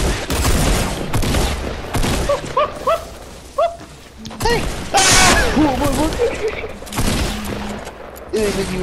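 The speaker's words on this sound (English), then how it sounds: "I'm getting shot from behind" Dense gunfire from a shooter game, near and loud: repeated rapid volleys with clattering impacts. Several voices talk and shout over it throughout.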